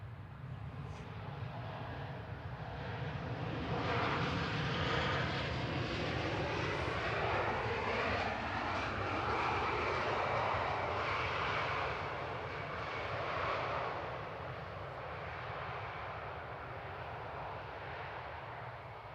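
An airliner taxiing at Manchester Airport, a steady loud jet engine whine and rumble that swells and slowly fades across the whole stretch, heard without talk.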